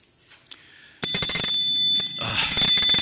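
An old-fashioned bell rings sharply and continuously in a Victorian London setting, loud and close, with a brief faint noise before it starts.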